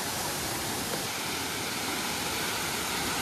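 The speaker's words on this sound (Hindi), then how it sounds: "हम लोग ऑलमोस्ट पहुंच चुके हैं वाटरफॉल के पास में" Waterfall near Satara, a steady, dense roar of falling water, loud and close, filling the whole clip without a break.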